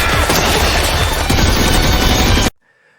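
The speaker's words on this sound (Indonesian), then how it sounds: "dia langsung dihujanin peluru gila-gilaan sampai harus tiarap" Dense, loud machine gun fire from the Gun Gale Online anime battle, a continuous hail of rapid shots for about two and a half seconds that cuts off abruptly into near silence.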